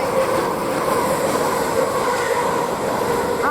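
An EMR Class 360 electric train arriving at West Hampstead Thameslink station makes a loud, close, continuous rumble of wheels and motors, with faint rail squeal and no let-up.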